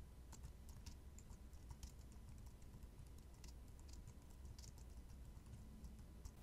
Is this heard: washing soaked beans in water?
no